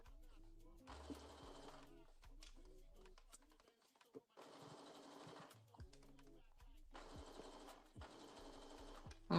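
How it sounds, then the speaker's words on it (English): A sewing machine runs a straight basting stitch on fabric for reusable period underwear, in several steady whirring bursts of a few seconds each with short pauses between, fairly quiet and close. "I'm just basting the size down with a straight stitch."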